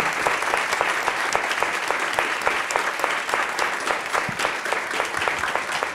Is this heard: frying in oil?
no